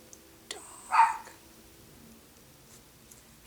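A single dog bark sounds at moderate distance, short and sharp, standing alone against a quiet room.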